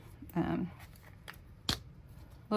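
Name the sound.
scissors cutting card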